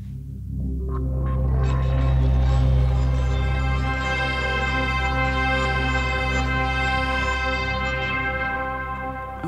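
Dreamworld, a sampled instrument from the Low End Toys library, swells in as a sustained, rich harmonic drone with a deep, throbbing low end and shimmering upper tones that hold steady and fade slightly, played alone.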